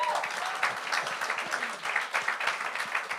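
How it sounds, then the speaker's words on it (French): Audience applause at a live comedy show, a dense steady patter of many hands clapping throughout, moderately loud, with faint voices underneath. "On la salue, on l'applaudit."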